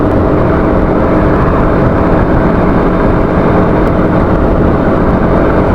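A Bajaj Pulsar RS200 BS6 motorcycle rides along, recorded on a DJI Action 2 mic, as a loud, constant roar of engine and wind buffeting with no talking.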